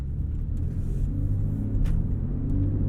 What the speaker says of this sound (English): you can hear that induction noise